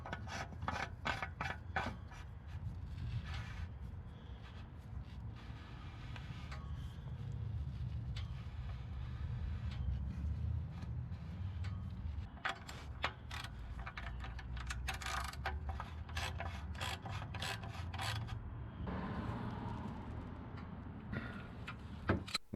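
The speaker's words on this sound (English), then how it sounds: "Screw the housing back into place and tighten to 25 Newton meters or 18 foot-pounds." Toyota Venza 3.5L oil filter housing being screwed back into place, a soft continuous rubbing and scraping with intermittent sharp ticks close by, faint and steady.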